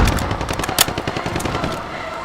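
Rapid automatic gunfire in Modern Warfare, a loud, close stream of shots with one especially sharp crack early on, then tapering toward the end.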